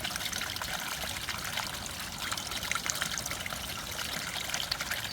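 Water trickles and splashes steadily as part of a koi pond's water is changed outdoors on a cool spring day, a continuous close hiss with no talking.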